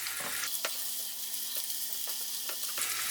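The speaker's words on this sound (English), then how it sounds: "into the oil goes my onion, and just stir that and fry that for a second or two" Chopped onion hits about a tablespoon of hot oil for a rice pilaf and sizzles steadily, with a few soft stirring scrapes cutting through the close, continuous frying hiss.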